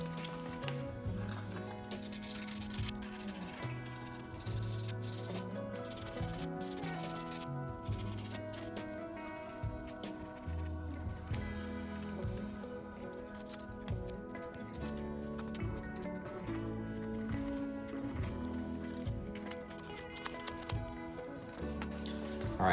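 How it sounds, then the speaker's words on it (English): Continuous scratchy rubbing of sandpaper on a plastic motorcycle fairing peg, close and quiet, with uneven strokes and some faint background hum throughout. "now that all our sanding is done"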